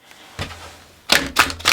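A deck of tarot cards is shuffled by hand in close, crisp bursts: one short riffle followed by a quick cluster of three sharp shuffling snaps, with no talk.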